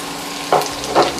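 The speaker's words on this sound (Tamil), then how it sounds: "2 மேஜை கரண்டி எண்ணெய் போட்டிருக்கேன். நல்லா சூடு வந்துருச்சு. வெட்டி வச்ச வெங்காயத்தை போடுறேன்." Chopped onions drop into two tablespoons of well-heated oil for a homemade tofu garlic sambal, giving two short, close bursts of sizzling frying over a quiet background.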